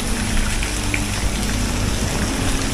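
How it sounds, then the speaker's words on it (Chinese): Water flows steadily in an abandoned underground cave beneath Chongqing, a dense, continuous rushing and spattering wash that fills the space close by, with no voices over it. "这个地方有很大的一股水"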